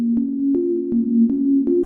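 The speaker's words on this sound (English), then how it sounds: "It's a delay plugin that can turn into a reverb plugin by just turning the warp knob up." A sustained low synth tone processed through the Valhalla DSP Supermassive delay plugin, turned into lush reverb by raising the warp knob, with soft rhythmic pulses repeating roughly every third of a second and a smeared, washy tail.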